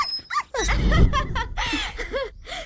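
A puppy whimpers and yips in a series of high, wavering whines, close and fairly loud, mixed with a low rumbling sound in a Hindi-dubbed South Indian comedy scene.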